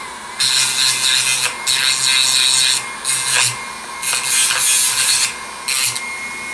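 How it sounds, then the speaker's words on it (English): A small Dremel grinding stone works the cut ends of a wire in several short, loud rasping bursts separated by brief pauses, close up with no talking. "I just use a little Dremel stone"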